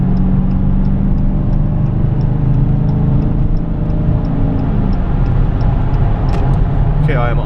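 A 2018 Dodge Challenger 392 Hemi R/T Scat Pack accelerating up a freeway on-ramp, its deep engine and road roar filling the cabin steadily while a person talks over it.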